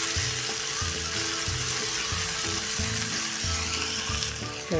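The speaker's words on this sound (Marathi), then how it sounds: "त्यामध्ये टाकूया हा छोटा एक बारीक चिरलेला टोमॅटो पण चांगला मऊ पडेपर्यंत आपण परतून घ्यायचा आहे." Finely chopped small tomato sautéing with onion and bitter gourd in a pan gives a steady, close sizzle that runs unbroken throughout, with a low rhythmic bed of sound underneath.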